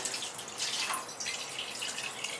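Water splashing and trickling while a brass lota is rinsed, a steady close wet patter with brief drips and no talking.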